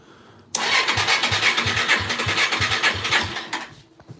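Yamaha TTR-230 dirt bike's electric starter cranks in a steady rhythmic whir for about three seconds without the engine catching, loud and close, then cuts off.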